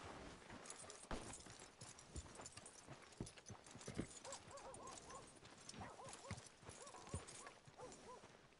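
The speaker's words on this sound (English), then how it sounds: "Are you gonna mount that new horse of yours or not?" Steady clip-clop of a horse's hooves from the game Red Dead Redemption, a regular trotting rhythm at moderate distance under quiet ambient game sound.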